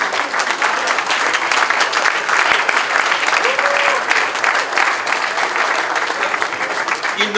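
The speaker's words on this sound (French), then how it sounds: "Il faut applaudir Moïse." Loud, dense crowd applause from a large gathering at a public event during a FIFA president's visit to Lubumbashi, sustained steadily throughout with a faint voice briefly audible underneath.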